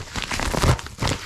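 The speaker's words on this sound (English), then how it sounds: "Sorry about all the rustling around." Cardboard and plastic packaging crinkling and crunching while an Amazon Prime box with a second box inside is opened, close and continuous with louder bursts, no talking.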